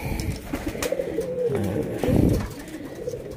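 Pigeons kept in a loft give low, throaty coos and soft burbling calls, close and fairly loud, repeating in overlapping phrases over light background noise.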